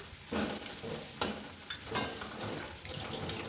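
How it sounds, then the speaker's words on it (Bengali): Chandramukhi potatoes frying in a kadai for aloo dum, a close steady sizzle broken by a few sharp clinks and scrapes of a spoon against the pan. "আলুটা তো প্রায় ভাজা হয়ে গেছে"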